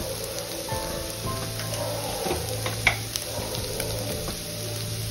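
Stuffed capsicum filling, seasoned with asafoetida, black pepper and chilli powder, sizzles softly in a pan over a low flame while being stirred, a steady gentle frying hiss with faint scraping.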